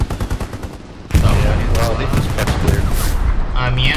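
Gunfire in the World War II shooter game Hell Let Loose: a rapid burst of distant shots, then heavier, louder sustained firing and booms, with a voice talking over it.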